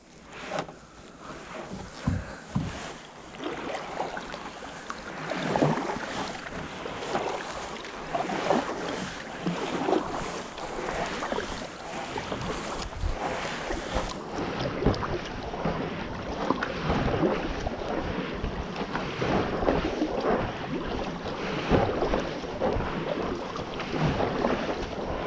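Gusty wind buffets the microphone on a kayak out on wide open ocean water in cold April weather, a continuous broadband roar with soft paddle and water splashes, no voices.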